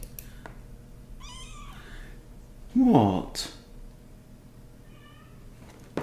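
Weaning kittens and their separated mother cat meow in a few short, thin calls spread across the clip, with one louder, closer cry in the middle and a brief spoken word nearby.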